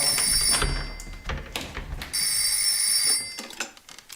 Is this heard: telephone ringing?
yes